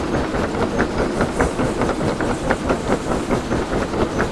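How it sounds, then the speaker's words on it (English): A steam locomotive in the Derail Valley video game hauls a full train of about nine cars uphill at full throttle, with a steady, rhythmic chuffing and clatter that repeats evenly throughout, loud and close, with no voices. "With a full train of about 9 cars, you have to have your throttle all the way up, or you won't make this hill."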